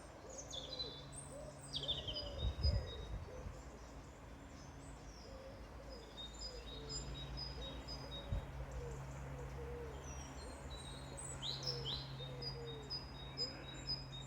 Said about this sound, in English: Birds calling, lovely.